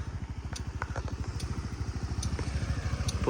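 Honda Dio 110 JF31 fuel-injected scooter engine idling close by, a steady, even low putter with rapid regular pulses and faint light clatter above it, running alone throughout.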